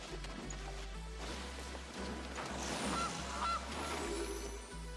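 A goose honking sound effect in the digital card game MTG Arena, loud, low honks repeating in an uneven rhythm over a steady game backdrop.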